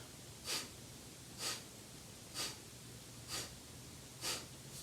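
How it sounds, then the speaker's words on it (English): Kapalabhati breath of fire: five short, forceful nasal exhales spaced about a second apart, each a soft close puff of air over a quiet background. "the Kapalabhati, or the breath of fire, which is this breath where you do these short, rapid exhales as you contract your abdomen"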